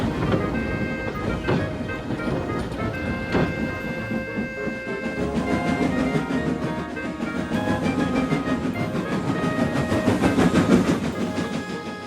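Percy the small tank engine running an evening post train along a branch line, with a loud, steady rumble, rhythmic wheel clatter and high tonal whines from the rails.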